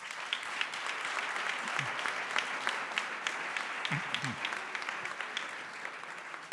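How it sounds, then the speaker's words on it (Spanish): Steady applause from an audience fills the clip, dense clapping at an even level throughout, with a few brief voices underneath. "un fuerte aplauso para Sandra"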